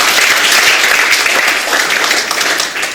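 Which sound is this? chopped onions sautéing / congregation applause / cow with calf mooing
congregation applause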